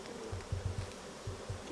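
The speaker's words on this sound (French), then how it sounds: "Là, t'as une fille une abeille qui ventile." A honeybee fans its wings at the entrance of a hive, a faint low buzzing with several short pulsing bursts, close by and alone without speech.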